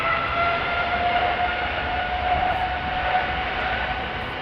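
A KLM airliner at Amsterdam Schiphol Airport gives a steady, loud jet roar with a sustained whining tone throughout, heard alone without voices.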